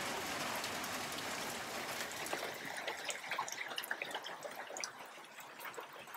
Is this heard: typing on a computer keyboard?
no